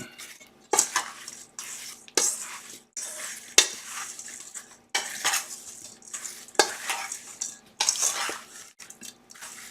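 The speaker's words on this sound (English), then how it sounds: "I'm just going to toss it all together until it's nicely incorporated." Apples being tossed with flour and cinnamon in a bowl, heard as a series of soft scraping, rustling stirs and light clinks of a utensil against the bowl in irregular bursts, close and fairly quiet.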